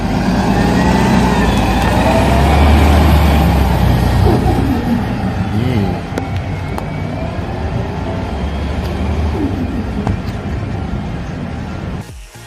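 A 2017-18 New Flyer Xcelsior XN60 articulated CNG city bus in New York City runs loud and close, its engine droning steadily with a rough, fluttering low rumble throughout and a brief hiss near the end.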